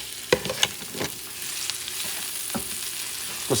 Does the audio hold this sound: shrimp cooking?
yes